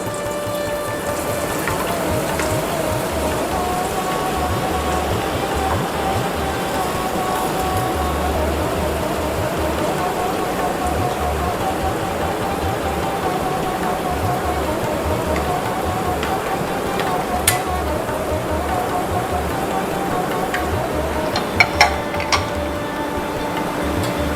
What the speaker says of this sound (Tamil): எண்ணெய் சுட்டதுக்கப்புறமா நம்ம இப்போ வந்து பூந்தி கரண்டியை வச்சு விடலாம்